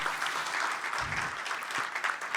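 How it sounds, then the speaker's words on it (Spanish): An audience at an agricultural expert panel gives brief, steady applause for the specialists, a dense patter of clapping filling the room at moderate volume. "vamos a comenzar con un fuerte aplauso a nuestros especialistas"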